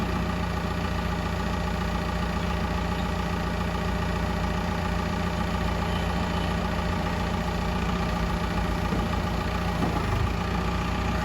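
Komatsu FD25-11 forklift with automatic transmission, rotating forks and a 4-metre mast, engine idling steadily and close by, with a continuous low rumble throughout and no speech.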